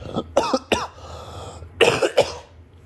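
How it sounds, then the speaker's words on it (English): Several wet, chesty coughs come in two bursts, a quick pair then a louder cluster, each rough and phlegmy, close up with quiet pauses between. "The cough continues to be productive"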